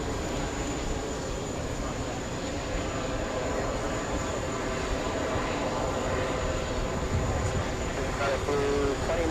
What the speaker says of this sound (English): We got a 767 right now about to touch down.